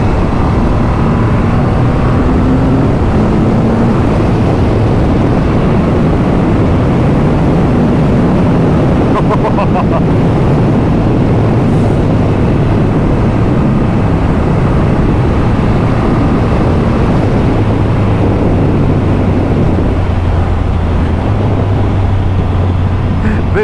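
A 2022 Triumph Rocket 3 R motorcycle ridden in fourth gear with the throttle opened, a loud, continuous engine drone mixed with heavy wind rush whose pitch climbs and shifts.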